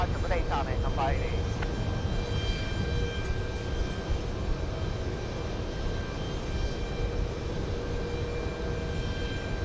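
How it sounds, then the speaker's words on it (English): GE90 engines on a departing airliner at JFK roar steadily from a distance, a broad rumble with a thin whine, while a brief voice is heard near the start. "I knew I heard GE90s."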